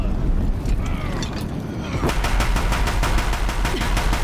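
Deathbringer machines in Horizon Zero Dawn fire on a bridge, a rough noisy barrage that breaks into a fast, loud, evenly spaced burst of gunfire for the second half.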